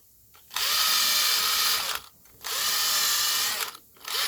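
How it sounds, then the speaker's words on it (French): Rusty bolt threads on a VW T3 engine swap are re-tapped with a power tool, giving three close, loud whirring runs separated by short pauses. "retarauder un petit peu pour nettoyer, pour enlever la rouille"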